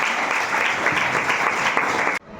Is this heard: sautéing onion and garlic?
no